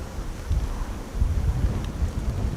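Wind blowing against a camera outdoors at Schiphol Airport gives a steady low rumble with gusty swells and no talk.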